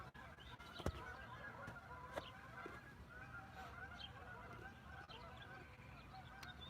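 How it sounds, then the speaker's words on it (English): Geese honk from a nearby wetland a few houses down a residential street, with faint, distant, scattered calls heard over a low outdoor background hum. "can you hear the geese? I hear them."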